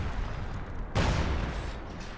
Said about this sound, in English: Barrage is still going for this Howie.